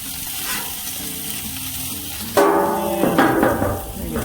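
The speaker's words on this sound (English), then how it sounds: "In case you're wondering what that other noise was, I got my sausage over here cooking up." Sausage sizzles on a Blackstone griddle with a steady bright crackling hiss, followed by a louder burst of scraping and metallic clatter from a spatula on the flat top.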